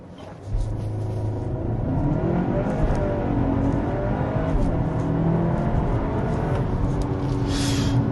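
A BMW M car with a DCT gearbox makes a launch start with its active sound switched off. A sudden engine roar builds into a steady, rising acceleration drone heard from inside the cabin, loud and continuous, with no talk over it.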